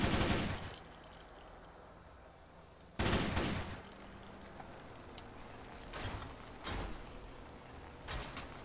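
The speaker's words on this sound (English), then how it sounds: "you're going to want to go with this machine gun" A modded machine gun in Fallout 4 fires in loud staccato bursts, sharp cracking volleys separated by short pauses, with brief mechanical clatter between them.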